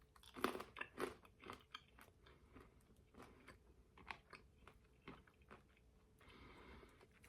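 Warm, freshly made sugar cinnamon almonds are crunched and chewed up close, with a quick run of sharp crisp bites followed by softer, quieter chewing that fades to faint rustling.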